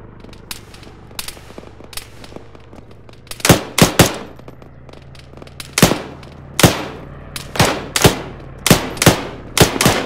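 Gunfire in the video game Arma 3, a run of sharp close shots in irregular single cracks and quick pairs, growing denser and louder through the second half over a low background hum.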